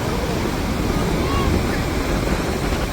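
Waves wash in a constant broadband roar at a Konkan beach, loud and close, with buffeting wind noise on the microphone.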